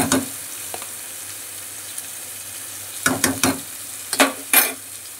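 Soybean chunks, potato and onion sauté with garam masala in a pan, a low steady hiss broken by a few quick, close spatula scrapes toward the end.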